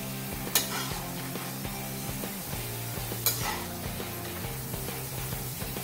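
Sweet corn fries in oil on a low gas flame, giving a steady soft sizzle with a low bubbling undertone and two brief sharp clinks of a utensil against the pan, close and alone without talk.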